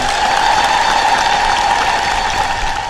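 Men in a sermon audience clap together in dense, steady applause that fills the whole stretch at an even, fairly loud level, with no voices over it.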